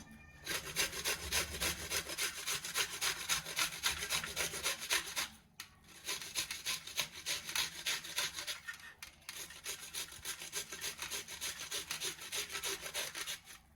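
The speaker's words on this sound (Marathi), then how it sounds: "मी किसणीच्या सहाय्याने पहिले किसून घेत आहे तर आपण कैरे ह्या किसून घेऊयात आता" Raw green mango being shredded on a hand grater for a sweet mango preserve, giving rapid rhythmic rasping strokes, close and loud, in three long runs separated by brief pauses.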